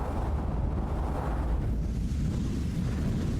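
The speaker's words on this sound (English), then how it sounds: "get ready to see the most powerful and terrifying explosions ever caught on camera" A powerful explosion roars as a deep, sustained rumble, loud and close, fading into a lower churning boom with no voices.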